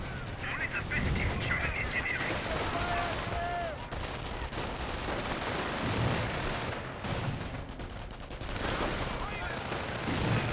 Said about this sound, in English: can grab the Flak 88 and get the gun firing